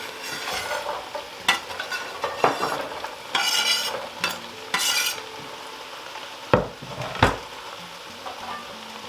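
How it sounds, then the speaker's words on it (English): Celery and carrot stirred into a hot soup pot on a stove, with bursts of sizzling, spoon scrapes and a couple of sharp clinks against the pot, close and without talk. "So now I'm going to add in my celery and carrot."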